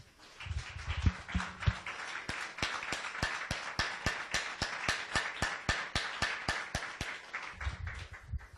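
Church congregation clapping in steady rhythmic unison, sharp claps evenly spaced about three per second, fairly close and clear, with a few low voice murmurs at the start and end.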